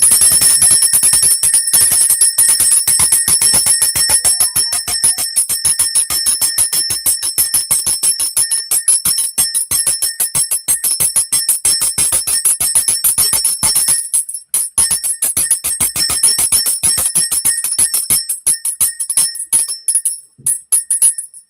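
A bell rings rapidly and continuously for a long stretch, a bright metallic trill, loud and close, with only a brief stutter partway through.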